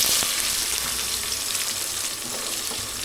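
Onions sizzling in hot oil already seasoned with cumin and mustard seeds, a dense, loud crackling hiss that holds steady for a few seconds with no talking.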